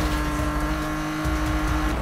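A tuned 850 horsepower BMW M3 GTR drifting in the Need for Speed 2015 racing game, its engine holding a loud, steady high drone while tires squeal and scrub underneath, close and continuous with no talk.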